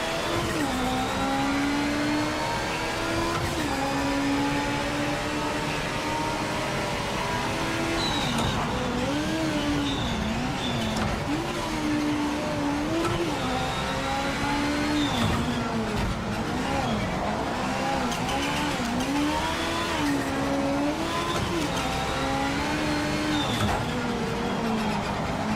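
A race car laps the Nordschleife in the sim racing game Project Motor Racing, its engine droning steadily and rising and falling in pitch through gear changes and corners across the whole stretch.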